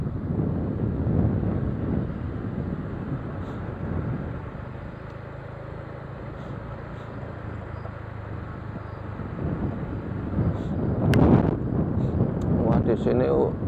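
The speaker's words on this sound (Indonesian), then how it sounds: "di sini udaranya itu, anginnya itu sangat kencang teman-teman itu" Strong wind rumbles across the microphone on a village road in the dry season, loud at first, easing in the middle, then gusting up again, with brief faint tones near the end.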